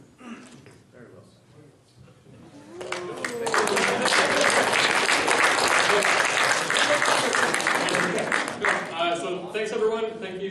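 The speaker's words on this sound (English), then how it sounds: "Another round of applause for the experts." An audience at an astronomy society meeting applauds after an expert talk, the clapping swelling from quiet murmur into sustained loud applause that tapers slightly near the end.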